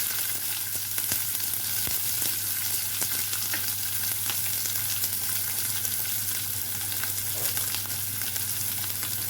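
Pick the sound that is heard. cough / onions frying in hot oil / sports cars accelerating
onions frying in hot oil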